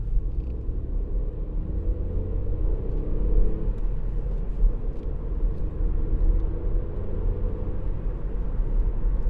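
A 2018 Ford Fiesta 1.0-litre EcoBoost ST-Line three-door drives along with a steady low engine drone and road rumble heard from inside the cabin, continuous and fairly loud.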